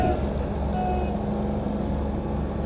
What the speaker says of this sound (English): This guy's under pretty heavy brakes.